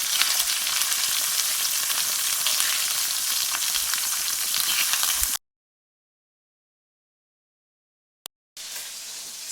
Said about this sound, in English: Searing meat in small batches allow it to brown evenly, locking all the juices right in.